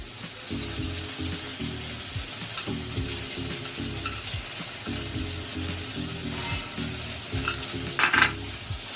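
Ginger-garlic paste frying with browned onions for a Bengali potol chingri, a close, continuous sizzle with rhythmic scraping strokes of a spatula against the pan and a few metallic clinks near the end.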